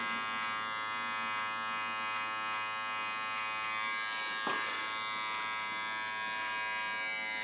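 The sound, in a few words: hair clippers fading hair with fade brush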